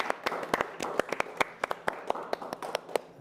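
A small live audience at a music and spoken-word session clapping in a short, sparse burst of distinct handclaps, fairly close and moderately loud, with no talking over it.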